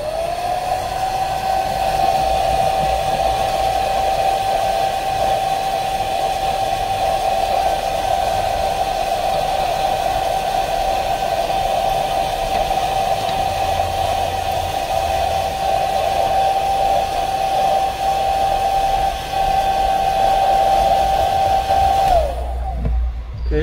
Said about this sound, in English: 1 minute using our hair dryer should be enough.